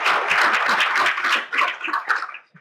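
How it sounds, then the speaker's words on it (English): A Law Day lunch audience claps for the volunteers who checked guests in. The burst is moderately close and fairly dense, then thins and fades within about two and a half seconds. "Can you give them a round of applause?"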